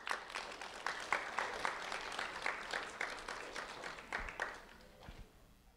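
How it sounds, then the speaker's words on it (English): Moderate applause from a school audience honoring two students, with distinct individual claps audible in the crowd, keeping an even pace before tapering off and fading toward the end. "A round of applause for Stephanie and Alivia,"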